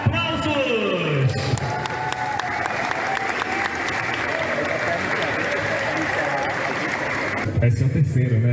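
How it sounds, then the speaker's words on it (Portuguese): Sustained applause and cheering from a large crowd fill a high school graduation ceremony in Breves, a dense wash of clapping with a few whoops, continuous for several seconds before dropping away, with a voice briefly over the top. "Aplausos!"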